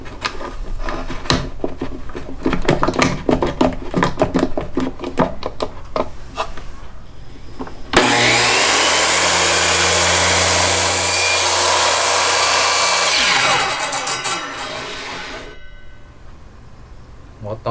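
A circular saw cuts through clamped-down wood, a loud, steady whine and rasp lasting several seconds and then winding down, after a stretch of talking with tool knocks and handling noise.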